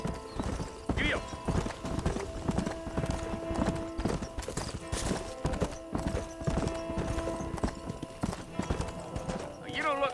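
Horse hooves gallop in rapid, rhythmic clip-clop through a Red Dead Redemption scene, close and steady, with a brief whinny and a voice over it.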